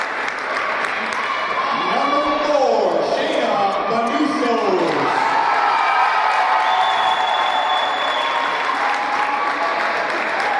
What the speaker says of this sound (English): Our student section is cheering wildly for our Lady Lions.